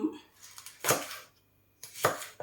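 Knife chopping chilies and beans for cooking, two sharp strikes on a board about a second apart, each with a short clatter, close by in a quiet room.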